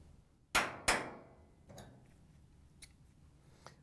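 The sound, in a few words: pliers removing a washer top panel lock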